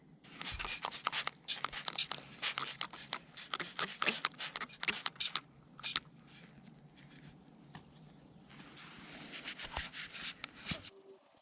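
Grime being rubbed and brushed off a dirty BMW E60 M5 alarm siren module, a close run of quick scratchy scrubbing strokes that thin into softer, quieter rubbing.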